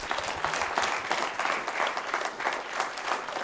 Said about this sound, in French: On va accorder, on applaudit.